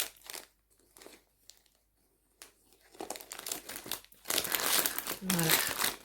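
A well-packed parcel holding a bead embroidery kit is unwrapped by hand, with sporadic close plastic and paper crinkles that build into sustained loud crumpling and tearing, and a voice speaks briefly.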